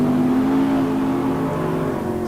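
A super gas Corvette Roadster drag car sits at the start line, its engine holding a loud, steady high-idle rev with a strong harmonic drone that eases slightly toward the end, with no voices.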